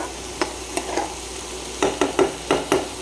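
Tomatoes frying in a pan for a kaju makhana curry give a soft, constant sizzle, broken by sharp scraping taps from a spoon stirring. The taps come sparse at first, then in a quick cluster.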